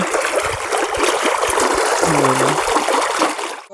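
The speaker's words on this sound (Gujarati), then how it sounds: "અહીંયા સામે એરંડામાં પાણી જઈ રહ્યું છે અને અહીંયાથી કાળિયા મારફતે જાય છે" Irrigation water runs through a small earthen channel into a castor field, a steady close trickle and gurgle with faint splashes, continuous with no talk.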